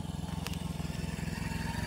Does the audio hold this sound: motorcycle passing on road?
yes